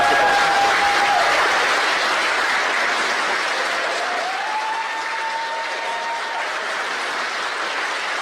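Loud, steady applause and cheering from a crowd in the Spaceflight Simulator game, sounding after stage separation and running unbroken for the whole stretch, with faint tonal whistles drifting across it.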